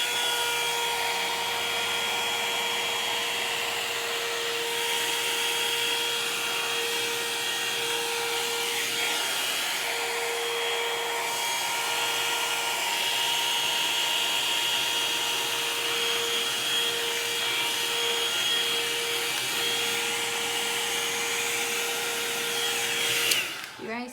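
A Joyyum hot air round brush runs on its high setting, giving a steady, close whirring blow with a constant motor whine that holds evenly throughout and cuts off abruptly at the end.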